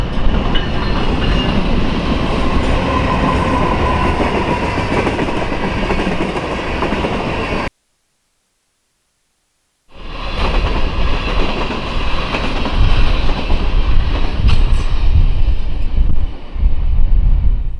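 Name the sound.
BNSF oil train passing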